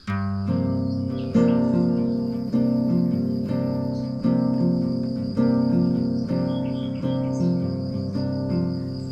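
An acoustic guitar picks a repeating fingerstyle pattern on ringing open strings, notes plucked in an even rhythm that cycles several times, close and clear.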